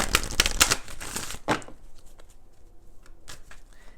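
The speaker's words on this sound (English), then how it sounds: "Let's do 3 shuffles for Pisces" Quick riffling bursts of cards being shuffled up close, a busy run at first, then a single sharp riffle and a few sparse taps.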